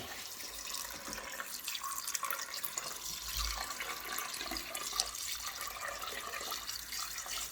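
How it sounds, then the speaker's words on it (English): Water runs and splashes steadily into a cooking pot of chicken pepper soup, a continuous hissing pour with small drips, close by and with no one talking. "So I'll just add water."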